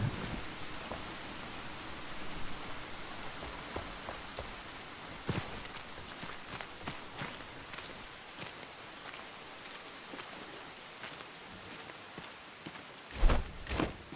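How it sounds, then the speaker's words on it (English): Steady rainfall in the video game Enshrouded hissing across surfaces, with scattered louder drops and a couple of sharp knocks near the end. "It is raining."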